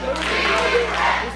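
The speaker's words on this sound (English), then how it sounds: "Crowd is calling for a referee." A wrestling arena crowd at a CWF Mid-Atlantic show chants and shouts for a referee, a dense, loud wash of voices and noise holding steady for a moment.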